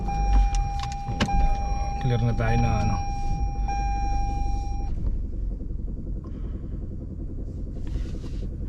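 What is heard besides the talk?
car being driven out of the garage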